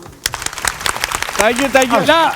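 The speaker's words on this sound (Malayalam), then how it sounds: "ഒരു കയ്യടി കൊടുക്കൂ." Audience clapping on a Malayalam TV comedy stage show, a short burst of applause that quickly gives way to a person talking loudly over it.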